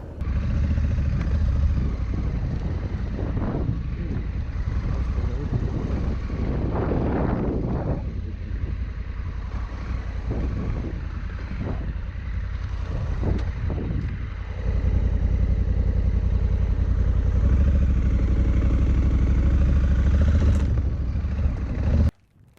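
A 2021 Honda Africa Twin DCT motorcycle rides over rough off-road terrain in Central South Africa, its engine rumbling steadily under heavy wind buffeting, then cutting out abruptly at the end.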